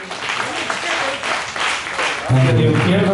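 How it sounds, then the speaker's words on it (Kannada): An audience claps at a stage event of film songs, with rolling waves of applause, then music and a voice coming in strongly near the end. "ಜೋರಾದ ಚಪ್ಪಾಳೆ ಕೊಡಲಿ"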